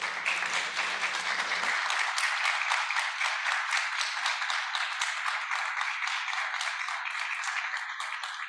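A concert audience at a bolero show gives a sustained, dense round of applause to welcome a singer, steady and full from start to finish, with a brief voice heard only at the very beginning.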